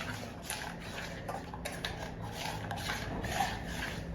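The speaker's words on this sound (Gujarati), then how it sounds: "હવે એને સ્ટર કરી દો. હલાવી દો." Metal spoon stirring pani puri water at home, a steady soft scraping and swishing with faint clinks against the vessel, continuous and close.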